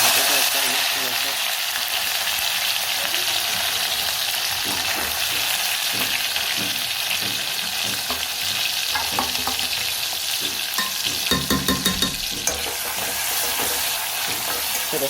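Oil sizzling in a pan while mung beans cook with turmeric, asafoetida and green chillies, a steady loud frying hiss with occasional stirring clatter near the end.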